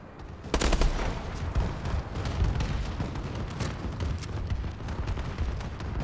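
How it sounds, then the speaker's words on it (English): Call of Duty Advanced Warfare gameplay with a friendly bombing run: a sharp blast opens into dense, continuous rumbling gunfire and distant explosions, loud and chaotic throughout with scattered sharp cracks. "That bombing run do anything?"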